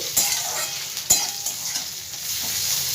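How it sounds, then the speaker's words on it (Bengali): Boiled kharkon fried with spices in a pan over low heat, a loud, close, continuous sizzle broken by two sharp scrapes of the spatula against the pan and some lighter stirring. Nobody speaks. "এবার আমি খারকন সেদ্ধটা সম্পূর্ণ এর মধ্যে দিয়ে দেবো। খুব ভালো করে সবগুলো একসাথে ভাজবো আমি।"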